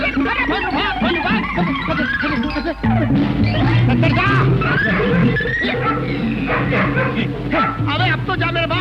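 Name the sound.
dog barking at a police constable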